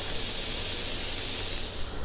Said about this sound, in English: I hit the steam release button, or the steam release to let all the steam out